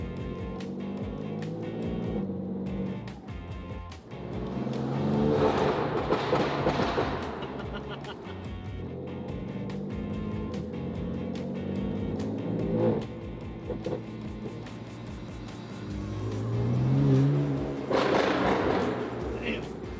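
A 2016 BMW M4 cruises at highway speed, its steady engine and road drone filling the cabin for the whole stretch, with occasional dull thumps and a voice speaking over it.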